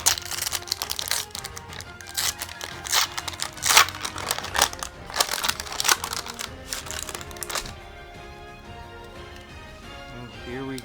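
A Magic: The Gathering Secret Lair card pack torn open by hand, close and crisp, with a burst of crinkling, ripping foil and paper handling over several seconds before it settles into quieter shuffling.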